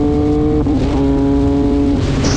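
A 2020 MV Agusta Brutale 800RC motorcycle engine accelerating, loud close revving with a rising tonal whine, a brief dip as the gear changes, then climbing again, with no talking.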